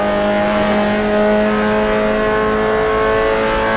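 A Mazda MX5 Cup race car in Assetto Corsa drives onto the main straight, its engine droning loudly and steadily at high revs with a sustained, slightly rising tone and no break.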